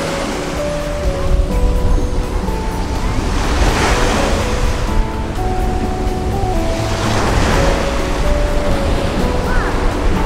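Surf rolls in steadily on a golden-sand beach, two broad wave swells building and washing over constant wind-blown roar, loud and close with no talk.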